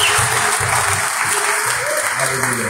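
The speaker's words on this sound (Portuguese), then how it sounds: "Dê um aplauso bem forte ao Senhor" A church congregation gives loud, sustained applause through the whole stretch, dense and close, with no voices over it.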